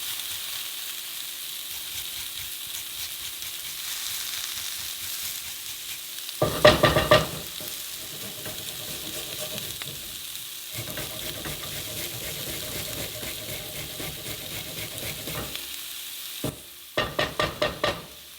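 Onions and ginger sizzle in a hot pan while being stirred, a steady close frying hiss broken by louder bursts of scraping and tossing, with a running-water-like wash at times.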